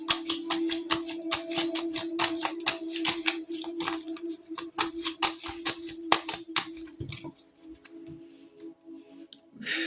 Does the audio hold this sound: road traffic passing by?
no